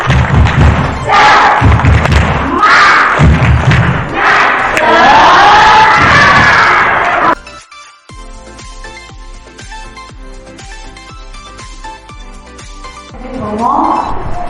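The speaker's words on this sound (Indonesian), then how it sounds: "Tepuk semangat." Children doing a rhythmic spirit clap: loud group claps and shouted chants in a patterned beat, then quieter even claps in a regular pulse.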